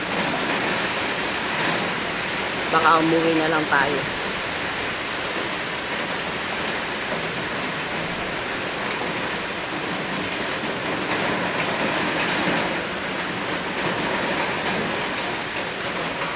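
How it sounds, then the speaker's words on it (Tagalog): Steady, dense rain noise pours down throughout, with a brief spoken phrase early on over the constant downpour. "Lakas ng ulan, mga kabindos."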